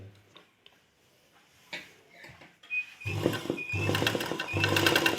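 A sewing machine starts stitching after a few quiet handling clicks and taps, then runs in fast rhythmic bursts of needle clatter, close and fairly loud, pausing briefly between runs.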